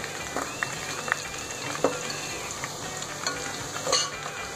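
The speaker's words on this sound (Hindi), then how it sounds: "तो अब मैं मिला लेती हूँ इसमें गोश्त" Marinated mutton being stirred into sizzling onions in a hot pan, with scraping spoon strokes and a steady frying crackle throughout.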